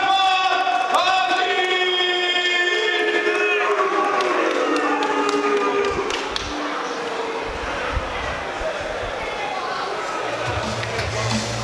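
A fight crowd reacts loudly after a split decision at a BA 77 bout, with a dense mass of shouting and booing that stays steady throughout while a voice speaks over it.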